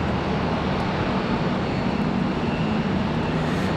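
An Etihad Airways airliner taxis at Charlotte Douglas airport, a steady, loud broadband jet roar that holds evenly without pause.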